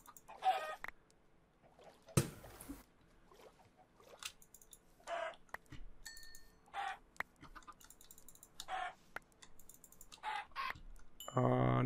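Chickens cluck in short, scattered bursts in the video game Minecraft, mixed with quiet keyboard clicking and a brief loud clatter, over near-silent gaps.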